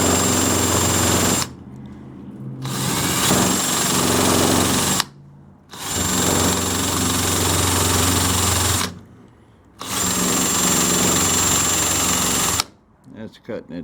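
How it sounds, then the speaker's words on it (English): An electric drill spinning a wire brush whirs loudly in four sustained bursts, separated by short pauses, with a harsh scraping grind against a 1929 Chrysler hood. "I'm going to take my drill and my wire brush and clean this up a little"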